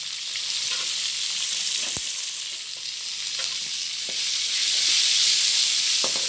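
Continuous loud sizzle of chopped onions frying in a tawa, with occasional sharp taps of a spoon stirring.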